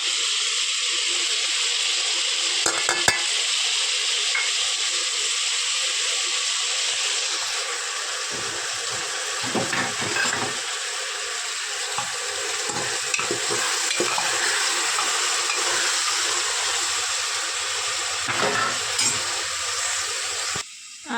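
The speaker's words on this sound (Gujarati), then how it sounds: "અત્યારે તો બકાલું થોડું ઘણું સતરાઈ ગયું છે તો એમાં છે ને આપણે ટમેટા નાખી દઈશું" Mixed vegetables with tomatoes sauté in a pan with a continuous close sizzle and hiss, broken by occasional scraping stirs and clatters, no one talking, ending on a brief louder knock.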